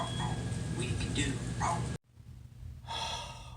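Blue, the cartoon puppy from Blue's Clues, gives a few quick yips and barks amid breathy, excited panting, broken by a brief pause before a final burst.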